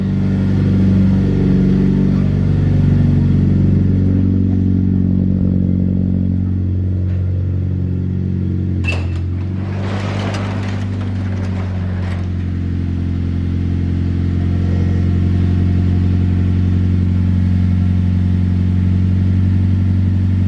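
A Nissan Juke engine idling steadily after starting on a cold night, around 14 degrees, a low continuous rumble with a brief clatter partway through, close and loud.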